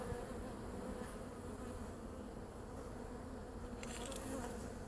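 Honey bees buzz at a hive during a check on queen release, a continuous dense droning hum, close but fairly quiet, with a brief rustle of handling near the end and no voices.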